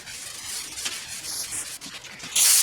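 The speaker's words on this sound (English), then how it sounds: "Now we're gonna go over it again with 220 grit, but I'm gonna switch to this smaller block" A small sanding block with 220-grit paper rubs across a primed car panel in quick back-and-forth strokes, a soft, close scratching that swells briefly louder at the end.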